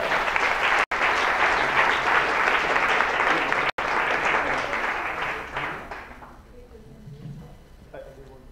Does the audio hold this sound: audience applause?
yes